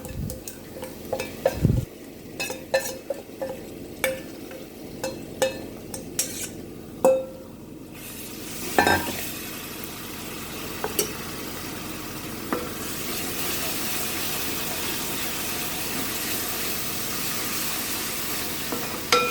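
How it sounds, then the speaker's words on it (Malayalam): A spoon scrapes and clinks in a pan as yogurt masala is stirred into the base for North Indian egg biryani, irregular taps and strokes at first, then a steady frying sizzle rising and continuing alone. "നന്നായിട്ട് മിക്സ് ചെയ്ത് കൊടുക്കാം."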